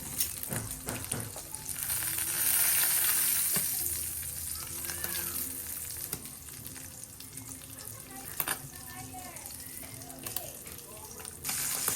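Fish sizzles and spatters in hot oil in a home kitchen pan, a steady close crackling hiss with sporadic pops and a few clanks running throughout.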